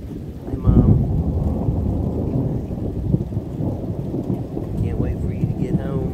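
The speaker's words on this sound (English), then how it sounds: "It's a really beautiful thunderstorm." A thunderstorm to the south, with loud, continuous rain and deep rumbling thunder that swells near the start and rolls on steadily throughout.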